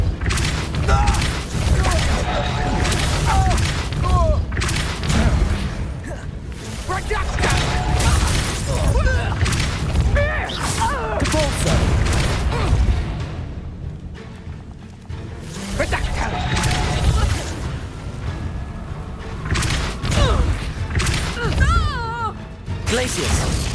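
Repeated Depulso force-push spell blasts from Hogwarts Legacy, dense bursty impacts and crashes mixed with other spell effects and game music, steady and loud across the whole stretch, with a voice calling out spell names.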